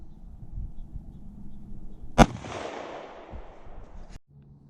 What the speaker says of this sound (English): next up we'll be shooting the XDS 45 ACP